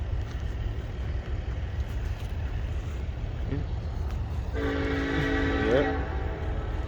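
A southbound Union Pacific mixed freight train passes in Texas: a steady, heavy rolling rumble throughout, with a loud, sustained horn blast joining in the last couple of seconds.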